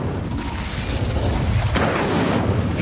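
Incendio fire spell in Hogwarts Legacy: a dense, steady rushing roar of flame with a low booming body that surges a little halfway through, loud and alone.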